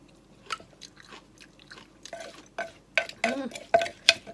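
Long bean salad with boiled egg being pounded lightly in a mortar, giving a series of soft, irregular thuds and scraping knocks that pick up in the second half, close by.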